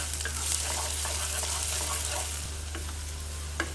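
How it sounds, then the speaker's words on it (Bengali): Potatoes and mola fish with onions being stirred in a frying pan, a continuous close sizzle with light irregular scrapes and taps of a spatula; no voices. "এখন আমি এক মিনিট থেমে থেমে নাড়া দিব"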